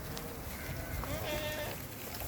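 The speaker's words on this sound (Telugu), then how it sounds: "గొర్రెలు." A large flock of sheep brought from Miryalaguda bleating in an open surrounding, several wavering bleats overlapping mid-distance above steady background noise, with people talking faintly.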